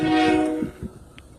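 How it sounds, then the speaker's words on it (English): A train horn blares loudly in a brief harmonic blast that fades quickly, followed by faint rumbling. "sounds like the train's coming"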